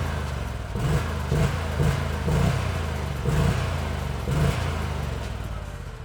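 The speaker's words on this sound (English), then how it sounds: "At idle, the engine runs nice and quiet, but when you push throttle, the sound is definitely satisfying." A Sharmax SHP-880 snowmobile engine revs under throttle in repeated surges over a steady mid-pitched drone, close and fairly loud, with no talking.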